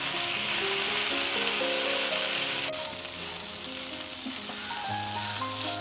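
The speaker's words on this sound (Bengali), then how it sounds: "গা থেকে ভেজা ভাবটা না যাওয়া পর্যন্ত এভাবে একটু নাড়তে থাকবো।" Rui fish crumbs frying in a pan and being stirred until the moisture cooks off, a loud, dense sizzle with scraping stirs and a faint tonal hum running underneath.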